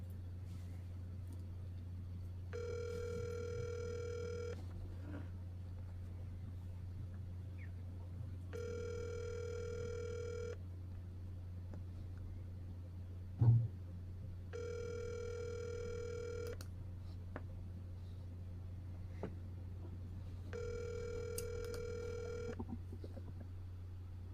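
A phone rings four times in a repeating pattern, each ring about two seconds with gaps between, heard through a speaker over a low steady hum.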